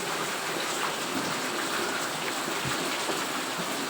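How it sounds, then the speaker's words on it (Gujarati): Rain pouring onto a rooftop terrace: a dense, steady hiss of falling water with scattered drop patters, loud and unbroken throughout, no voices. "ચાલુ વરસાદ આવી ગયા આપણા અગાસી માટે."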